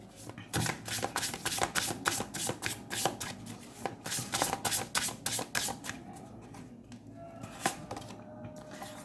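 Oracle cards being shuffled by hand, a rapid run of crisp riffling snaps and slides that repeats in bursts, close and fairly loud, tapering into quieter shuffling near the end with no talk.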